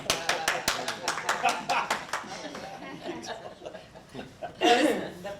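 Quick applause breaks out at a community partnership meeting as the room rises in a standing ovation, with sharp clapping bursts that thin out under chuckling and chatter, followed by a brief louder flurry near the end.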